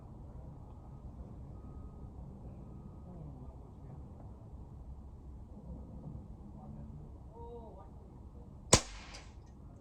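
A single sharp gunshot cracks out near the end as a gun is fired at a target from a sitting position, following a stretch of quiet low background noise with faint talk.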